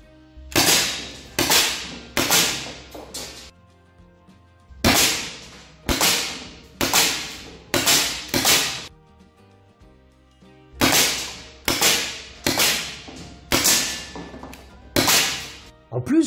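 An HDR 68 launcher fires PLB68 rounds in rapid bursts of sharp, loud cracks, each with a deep boom and short decay, grouped in volleys of three to six shots separated by brief pauses.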